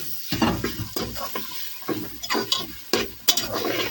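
Tomatoes going into a frying masala and being stirred, Punjabi village-style dal mash and chana dal cooking: a steady sizzle with repeated scraping stirs of a spoon against the pot, close and fairly loud, no talk.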